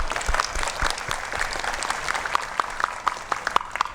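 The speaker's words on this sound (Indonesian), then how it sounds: "Kita coba tepuk tangan dulu." Audience clapping at a Hindu dharma talk, a dense sustained patter of many hands that settles into sparser, sharper individual claps toward the end.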